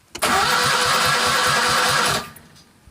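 A Citroën 2CV running a replacement engine cranks with a rapid rhythmic churn, catches and roars briefly at a steady loud pitch, then cuts off abruptly into near silence.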